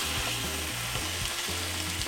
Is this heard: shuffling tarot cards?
no